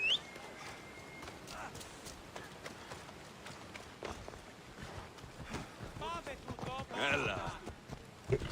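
Rapid hoofbeats of a galloping horse in the video game Assassin's Creed Odyssey run steadily through the clip at moderate volume, with wind noise and occasional chirpy tones on top.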